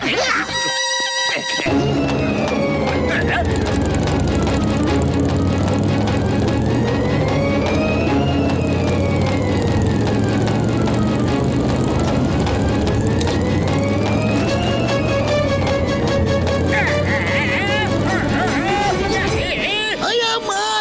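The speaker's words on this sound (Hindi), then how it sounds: "इसमें चलाओ मोटरसाइकिल" A motorcycle ridden round a small pit in a cartoon scene, its engine whining loud and continuous, rising and falling in repeated sweeps, with a crowd murmuring underneath.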